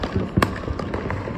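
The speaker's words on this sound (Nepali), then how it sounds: "यो तिहारको पटका हो।" A Tihar festival firecracker goes off on a road in Nepal with one sharp, loud bang, followed by a scatter of smaller pops and crackles in the street.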